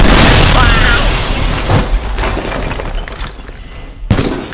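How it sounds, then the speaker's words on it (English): A large explosion in the video game Teardown booms with a loud, sustained roar and rumbling debris that slowly decays, followed by a sharp crack near the end. "I know the explosion's a little large, but it's fun."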